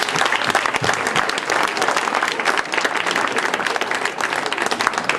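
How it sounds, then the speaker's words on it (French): A visiting group from Saint-Renan breaks into loud, dense audience applause at a reception, many hands clapping steadily up close for several seconds without pause. "Et je crois qu'il faut l'applaudir."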